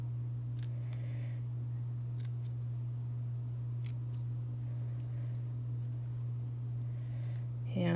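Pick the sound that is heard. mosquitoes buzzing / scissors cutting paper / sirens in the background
scissors cutting paper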